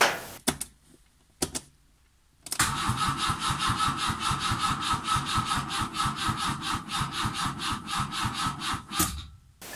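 A Peugeot 104 engine cranks on a start attempt after its wiring harness and ground were redone, a steady rhythmic starter churn running for several seconds after a couple of short bursts, loud and close with no talk.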